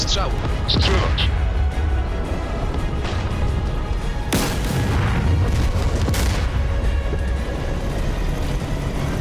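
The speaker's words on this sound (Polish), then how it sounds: "Gotowy do strzału. Strzelać." Tank cannon shots from a K2PL tank in a combat video game, heavy booms standing out twice amid constant rumbling engine and battle noise, with radio-style voices talking over the action.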